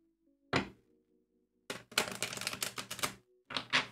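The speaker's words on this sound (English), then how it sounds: "let's shuffle this oracle deck a little bit." Quick bursts of stiff oracle cards being riffled and tapped, a short flutter followed by a longer run of clattering shuffles, then a brief final riffle.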